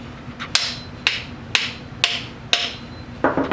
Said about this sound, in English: tap the wedge until it stops moving freely